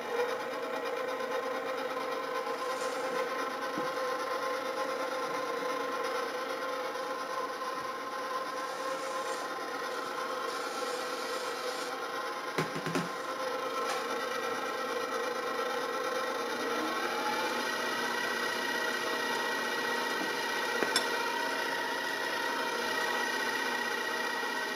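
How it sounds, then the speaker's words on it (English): Stand mixer with a paddle attachment beating cinnamon bun coffee cake batter, a steady continuous motor whir with a faint rhythmic churning that runs unbroken for the whole stretch. "now I'm going to put it on the mixer with a paddle attachment and just make a nice smooth batter out of this"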